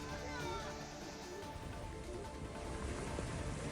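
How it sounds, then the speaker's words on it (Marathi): Heavy monsoon rain pours down in Maharashtra, a constant dense hiss of drops on surfaces that stays steady and fairly close throughout, with faint background voices. "जोरदार पाऊस राज्यातल्या अनेक भागांमध्ये पडतोय"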